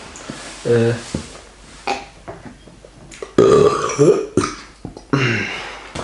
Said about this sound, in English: Got the burps on, and it's kind of fizzy.